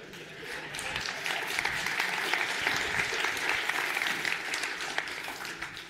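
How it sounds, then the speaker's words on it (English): An audience at a C++ programming conference keynote applauds in the middle of the talk, a steady wash of many hands clapping that holds evenly throughout without voices. "They applaud during the talk."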